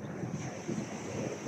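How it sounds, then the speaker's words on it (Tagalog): Sea waves wash onto the shore at Onay Beach in Northern Samar, a soft continuous surf rumble mixed with wind noise on the microphone, fairly quiet and without talk. "may dagat naman"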